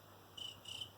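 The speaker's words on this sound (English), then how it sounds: "It's my cricket sound." A cricket chirps in two short trilled bursts, close and clear over a low steady hum, with no talking.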